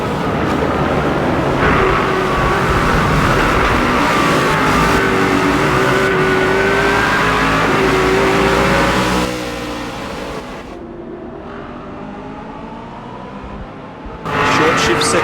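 A Holden race car at Bathurst in Forza Motorsport 6 revs hard through the gears with rising and falling engine pitch, loud and continuous before dropping off near the end.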